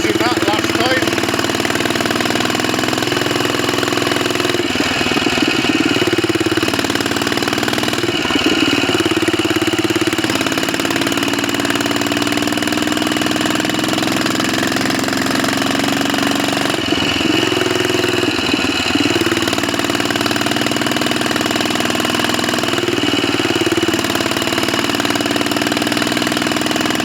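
A Royal Enfield 500 Bullet Trials motorcycle engine drones steadily on a test ride, with its pitch rising and falling through gear changes and heavy wind rush over the recording, while a rider talks at times.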